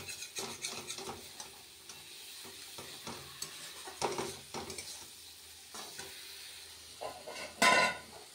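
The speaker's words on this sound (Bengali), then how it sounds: "মশলাটাকে ভালো মতন কষিয়ে ফুলকপি আলু যেটা ভেজে রেখেছিলাম" Fried cauliflower and potato sizzle in a spice masala in a pan, stirred in short scraping strokes with light clinks of a utensil against the pan, close up and without talk.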